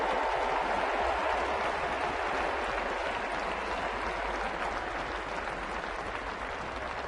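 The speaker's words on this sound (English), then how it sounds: "Fans, let's give a warm round of applause to Ryan Zimmerman" Steady, dense applause and cheering from a large crowd at a Washington Nationals home opener for Ryan Zimmerman, a continuous wash of clapping that holds at an even level throughout.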